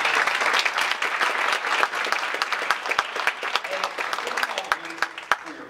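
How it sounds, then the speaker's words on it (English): A room full of people applauding steadily, with scattered sharper claps standing out as the clapping thins toward the end. "Let's give our panelists a round of applause."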